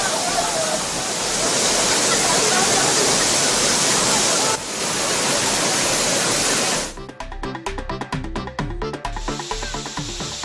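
The Thirparappu waterfall, swollen after rain, roars with a loud, steady rush of falling water, then the sound shifts to a choppier broadband splashing nearer the torrent, with no voices.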